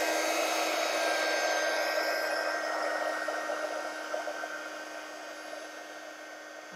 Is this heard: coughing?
no